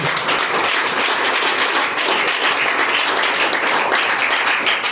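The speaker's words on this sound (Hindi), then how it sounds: "उनके लिए तालियां हो।" Loud, dense applause from an audience at a youth award ceremony, a continuous wash of clapping that holds steady for the full five seconds.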